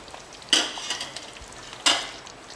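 Marinated Jaora special mutton sizzles steadily in a pan while a utensil stirs it, with two sharp scraping clanks standing out over the quiet frying hiss.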